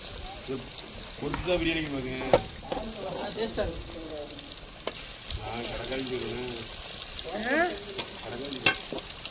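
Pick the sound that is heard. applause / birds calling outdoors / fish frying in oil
fish frying in oil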